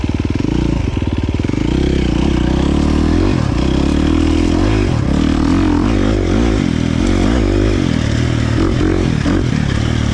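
A KTM 350 XC-F dirt bike with a Vortex ECU tuned by Twisted Development runs loud and close, its engine note rising and falling with small revs before settling toward a steadier idle.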